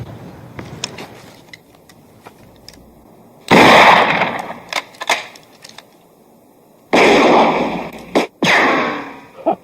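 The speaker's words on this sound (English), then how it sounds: "Is he shooting at us? He can't hit nobody from there. He's just wasting his bullets." Gunshots fired from a distance in a Western setting: two loud, echoing bursts of gunfire separated by a few seconds, with faint scattered cracks and quiet outdoor ambience between them.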